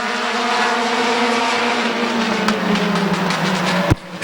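Several race cars roaring together at Midvale Speedway, running three wide through a turn, a loud sustained engine drone with shifting pitch and a sharp burst near the end.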